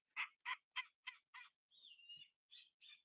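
A TY graduation plush owl toy sounds off with its electronic call, a faint series of about five evenly spaced hooting bursts, then a longer warbling note and two more short calls.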